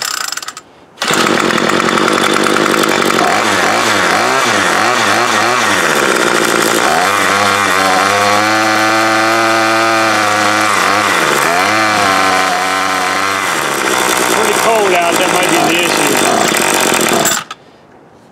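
An MTD Bolens BL110 25cc curved-shaft trimmer engine starting, loud and close, sputtering to life then revving unevenly with rising and falling pitch for about sixteen seconds before cutting off abruptly.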